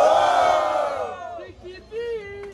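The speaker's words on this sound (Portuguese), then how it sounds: "Barulhos, barulhos pra quem gostou das rimas da Vicky V!" A loud crowd at a Brazilian student freestyle rap battle roars and cheers, the noise swelling then dipping before a few shouts and whoops rise again near the end.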